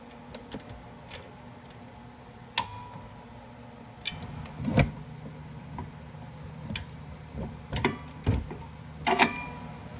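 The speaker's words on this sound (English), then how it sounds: "Then you just torque this up to 35 foot-pounds." A torque wrench tightens a 17mm nut on a sway bar link of a Chrysler 200, giving a run of close ratchet clicks and metallic ticks in short bursts, with a few louder clacks near the end.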